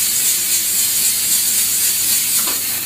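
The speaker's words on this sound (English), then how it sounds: "add the steam way up in the air so it doesn't cause any damage" A steam gun flushing carpet while a vacuum runs, giving a loud, steady hiss and rushing roar that holds evenly throughout, with no talk.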